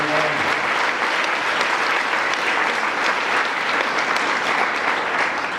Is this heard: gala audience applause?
yes